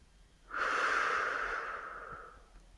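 A single long, audible breath during a gentle beginner's morning yoga stretching routine, a close, airy exhale that swells quickly and fades slowly over about two seconds, with no talk.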